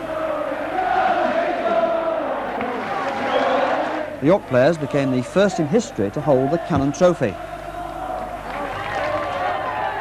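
A football crowd at Bootham Crescent celebrates York's promotion, a broad roar of cheering fans filling the ground, partly under a commentator's voice and then dropping back to a steady crowd murmur.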